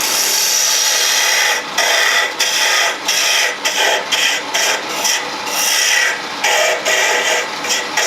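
A wood lathe spins as a tool cuts into the wooden handle of a spinning top, giving a loud close rasping, scraping hiss that pulses with short dips as the cut shifts.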